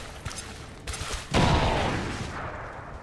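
A sudden loud blast from a bomb in XCOM 2: War of the Chosen bursts out after a few scattered thuds, then its rumble decays over the next second and a half.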